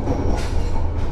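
A Gajahwong economy premium passenger train rumbles along the rails from Jakarta toward Cirebon, a loud steady roll of wheels with faint squeals and clacks heard from inside the carriage.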